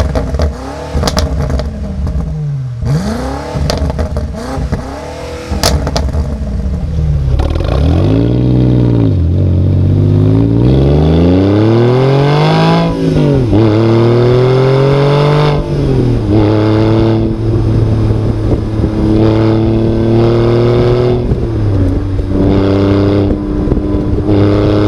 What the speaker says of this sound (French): On s'en sert également pour capter le son d'échappement